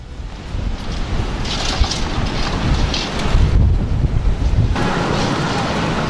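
Strong storm wind from Storm Ivar gusting through streets in Norway, a loud continuous roar and buffeting against the microphone that swells and surges in waves for several seconds.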